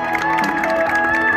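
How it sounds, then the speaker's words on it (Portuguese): Guests at a birthday party clapping and cheering together, a brief burst of applause with a few shouts and a sustained musical tone running beneath. "Pode bater palmas aí, pessoal."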